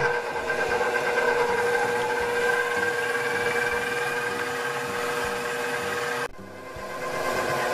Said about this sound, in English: we're going to whisk these egg whites until firm peaks